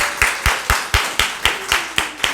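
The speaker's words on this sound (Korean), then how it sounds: "우리 다시 한 번 더 박수로 격려하겠습니다" A church congregation at a Sunday service claps for a youth band of drums, bass and guitar: about nine evenly spaced, sharp claps in a steady rhythm, fairly close, with no voices.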